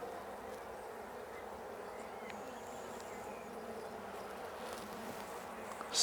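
Honey bees buzz softly and continuously, a faint, even hum with no voices.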